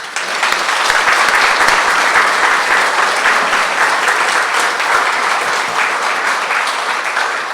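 An audience claps steadily to welcome a speaker at the launch of an art gallery war exhibition, a loud, even wash of applause sustained throughout with no one speaking over it.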